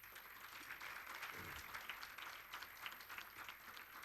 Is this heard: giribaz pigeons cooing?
no